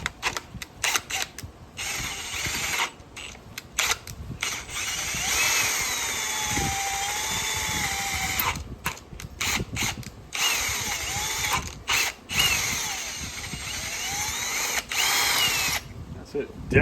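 Drilling a header bolt hole into the engine block of a 1969 Pontiac Firebird 350, a power drill whirring in steady bursts with short pauses and pitch shifts as it bites into metal, close and loud.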